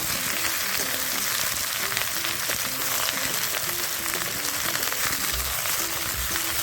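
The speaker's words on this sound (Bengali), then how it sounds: "আলু ভেন্ডি টুকরো করে কেটে নিয়েছি তেলের মধ্যে দিয়ে দেবো" Potato and okra pieces fry in hot oil for a village-style bhindi curry, giving a dense, continuous crackling sizzle that stays steady and close throughout.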